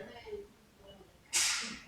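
A sharp, loud sneeze bursts out near the end of a church sermon, preceded by quiet room tone and faint murmuring.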